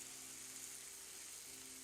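Garlic and chillies fry in oil with a faint, steady sizzle and a low hum underneath, no voices present.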